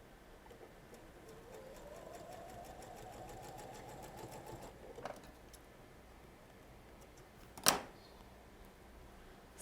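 A domestic sewing machine stitches quilt pieces together, a steady mechanical whir running for about five seconds before stopping, followed by a single sharp click.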